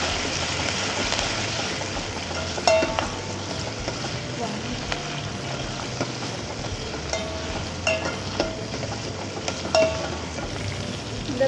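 Onions and curry leaves fry in hot oil with a loud, dense, constant sizzle and occasional sharp pops and stirring clatters, close up throughout.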